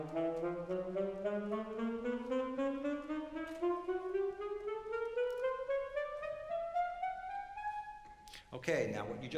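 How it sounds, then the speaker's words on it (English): A saxophone ascends through its full range with crisp staccato attacks, each note clearly separated in a steady rising run. The playing is close and prominent, and a short burst of speech follows once it stops. "Now give us it with a staccato attack so you can hear some of the articulation variation."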